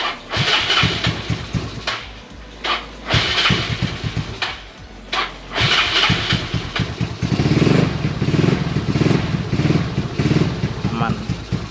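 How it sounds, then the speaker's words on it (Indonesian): Bored-up motorcycle engine fires up and keeps running with a rough, clattering idle and occasional revs, loud and close throughout, with brief pauses early on. "langsung aja gue nyalain nih"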